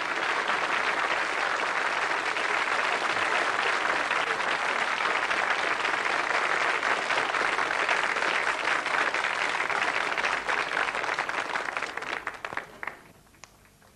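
An audience breaks into sustained applause, dense steady clapping for about twelve seconds before tapering into scattered final claps and fading out.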